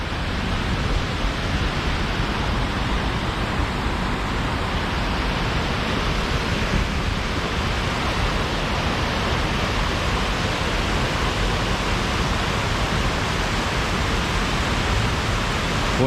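Partly frozen waterfall at Lanterman's Falls in winter, a steady broadband roar of falling water that stays constant and fairly loud throughout, with no talk.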